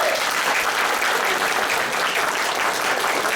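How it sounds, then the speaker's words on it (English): Live audience at an improvised Dungeons & Dragons comedy show clapping together in a steady, dense wash of applause, loud and close, lasting the whole moment without talk. "If you think she confessed, clap your hands on the count of 3"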